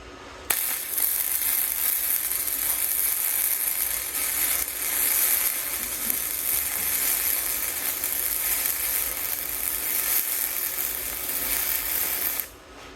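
An uphill weld laid with a budget Bestarc MIG145 7th-generation MIG welder: a continuous, close crackling sizzle of the arc that starts abruptly, holds steady for about twelve seconds, then cuts off.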